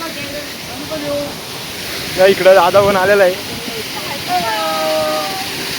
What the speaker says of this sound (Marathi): इकडं धबधबा बघू शकता